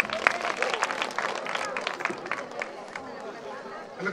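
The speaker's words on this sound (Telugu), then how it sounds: "ఒకసారి గట్టిగా చప్పట్లు కొడదాం" An audience at a Telugu Christian children's action-song event claps in a ragged patter of many hands, with crowd chatter and voices mixed in.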